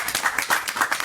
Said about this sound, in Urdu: آپ کی بھرپور تالیوں میں زعیم رشید صاحب